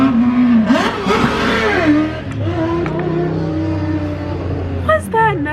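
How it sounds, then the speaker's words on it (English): Motorcycles revving and passing by outside, a loud engine whine that rises and falls in pitch, with a voice talking over the noise. "people on motorcycles"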